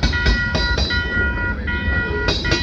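A freight train from Toronto bound for Detroit rolls past on the Windsor and Galt Subdivision in London, Ontario, with loud, close rhythmic wheel clicks over steel rails and a continuous rumble, with no talk.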